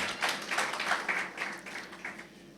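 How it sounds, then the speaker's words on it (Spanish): A church congregation claps during a service, a moderately loud burst of applause with a steady, rhythmic pulse that gradually softens. "Le damos un aplauso al Señor"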